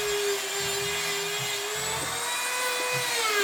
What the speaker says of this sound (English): you can go in, once again, take a Dremel